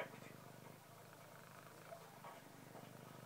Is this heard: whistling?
no